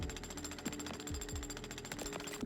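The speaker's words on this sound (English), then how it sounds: "Right-click to start and stop the jackhammer." Rapid, continuous jackhammer chipping at sludge crystals in the cleaning game Sludgineers: a dense mechanical rattle with a few sharper impacts, steady and close throughout.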